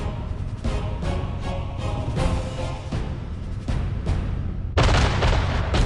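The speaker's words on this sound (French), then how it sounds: "3000 canons et orgues de Staline écrasent les lignes ennemies" Massed Soviet artillery cannons and Katyusha rocket launchers open fire at dawn on enemy lines around Stalingrad, a dense continuous roar of overlapping booms and blasts, loud and rolling, surging even heavier near the end.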